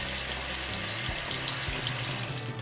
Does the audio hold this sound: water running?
yes